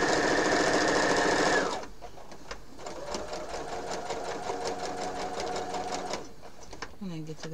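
A sewing machine stitches the edges of a fabric napkin holder, first with a fast, loud whirring run that stops abruptly, then a steadier, quieter stitching pass with repeated mechanical ticks, while someone talks.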